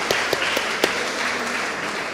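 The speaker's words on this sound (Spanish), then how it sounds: "Un aplauso para los demás de 20" Audience applause in a church gathering, steady clapping with a few sharp louder claps near the start, moderately loud and sustained.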